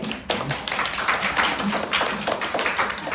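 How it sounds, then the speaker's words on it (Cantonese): Audience applause at a company gathering, a dense patter of many hands clapping close by, steady for about three seconds after a brief pause. "非常好，俾啲掌聲。"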